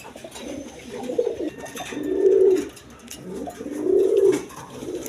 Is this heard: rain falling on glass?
no